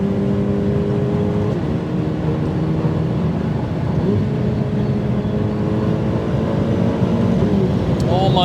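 A Ferrari 488 Pista supercar's engine pulls hard on the Autobahn, a sustained loud interior roar with shifting pitch as it accelerates.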